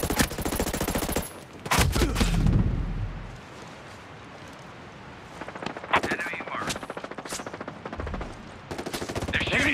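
Ghost Recon Breakpoint PvP firefight: bursts of automatic gunfire crack loud and close in several volleys, separated by a quieter lull, with a heavier blast near the start and game voices talking over the action.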